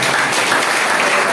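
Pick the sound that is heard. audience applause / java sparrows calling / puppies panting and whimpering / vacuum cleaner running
audience applause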